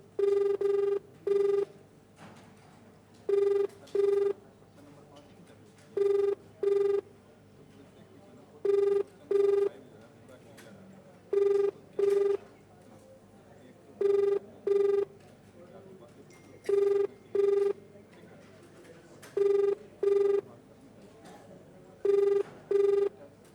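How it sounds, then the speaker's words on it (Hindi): An outgoing call to a police superintendent in Sitapur rings unanswered: a steady ringback tone repeats its double ring at an even pace about nine times, clear and alone. "बेल ज़रूर यहाँ पर जा रही है, घंटी बज रही है, लेकिन फ़ोन अभी तक रिसीव नहीं हुआ है"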